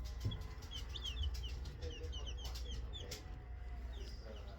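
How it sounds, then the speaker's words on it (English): Backyard chickens clucking and a rooster calling, soft and close, with scattered bird chirps overhead and a low rumbling background, no talking. "We got chickens."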